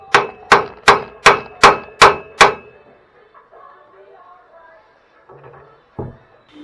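Seven evenly spaced, ringing metallic hammer blows on a Marcos Mantula car chassis during repair, followed by quiet clatter and one final knock.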